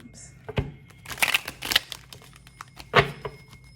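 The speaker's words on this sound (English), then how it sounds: "I'm gonna shuffle about 3 more times." A deck of tarot cards is shuffled by hand in several bursts of crisp riffling and slapping, close by and moderately loud, with a voice talking between the shuffles.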